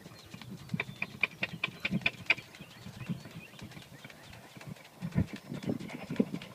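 Steady clip-clop of horse hooves on a hard surface, rhythmic and fairly close, with some low rumbling and faint breathing underneath.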